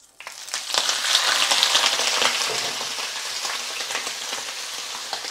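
Squid sizzles and fries in plenty of oil in a pan, a loud, dense crackle that starts abruptly and holds steady throughout, close up with no talking.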